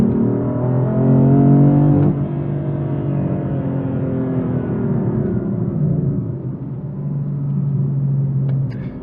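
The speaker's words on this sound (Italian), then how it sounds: "la macchina comunque suona bene lo stesso" A BMW M4 F82 engine drones and revs under load, a deep rising-and-falling growl that stays steady for several seconds without any talking.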